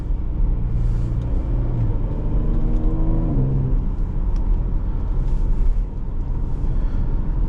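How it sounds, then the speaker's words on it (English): A 2018 Jaguar F-Pace 35t Prestige SUV's V6 engine while driving: a steady close cabin rumble with one clear rising rev sweep before settling back to a constant drone, no talking. "The sound of that V6, it's out of an SUV"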